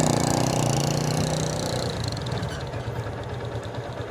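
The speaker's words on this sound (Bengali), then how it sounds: "এখানে সামনে একটি মোটরসাইকেলের সমস্যা" A motorcycle engine runs steadily and loudly at close range as it waits to be loaded onto a boat at Tahirpur, Sunamganj, its rough hum dropping slightly partway through.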